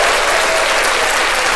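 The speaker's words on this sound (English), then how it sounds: "a big round of applause for you being on the show today" Dense, steady applause from a studio or show audience, loud and continuous with no pauses, closing out a segment with a back-pain doctor as guest.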